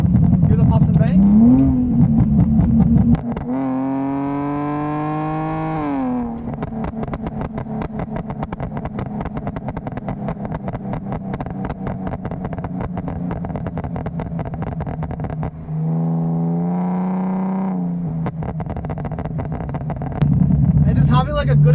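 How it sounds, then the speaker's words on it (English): A BMW E46 with a stage 3 tune revs hard and drops through gears, the loud engine note rising and falling while the exhaust crackles, pops and bangs on each downshift. "you just want to hammer it down a little, downshift a couple times, hear the pops and bangs."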